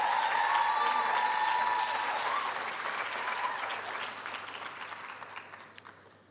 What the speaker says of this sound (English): you give your parents and families a round of applause